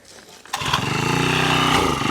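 A small engine catches and starts after a quiet moment, then settles into a loud, steady running rattle that carries on to the end.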